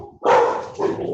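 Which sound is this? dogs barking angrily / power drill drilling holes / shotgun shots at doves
dogs barking angrily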